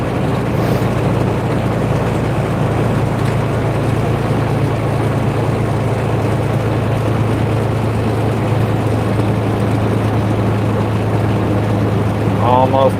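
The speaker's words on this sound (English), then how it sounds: "I have to shift down to 8th gear on this one." A heavy truck engine labors uphill in high gear in a driving video game, a steady low drone holding throughout at even loudness, with someone occasionally talking over it.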